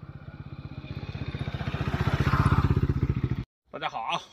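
A motorcycle rolls slowly at low speed along a loop path, its engine giving a steady close putter that swells slightly, then cuts off abruptly before a person starts speaking.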